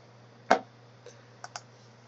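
Typing on a computer keyboard, one sharp key click followed by a few fainter scattered taps over a quiet, steady hum, with no talk.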